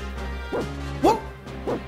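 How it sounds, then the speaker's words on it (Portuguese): A small dog barks three times in Final Fantasy VI Pixel Remaster, short yaps spaced evenly over a steady game music bed. "Olha o cachorrinho latindo."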